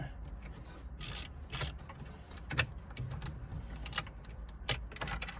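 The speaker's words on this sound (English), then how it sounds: "Just go ahead and take that screw all the way out." A screw is worked out of a Volvo XC dashboard with soft ratcheting clicks and scraping, faint and close, broken by a few sharper metallic rattles.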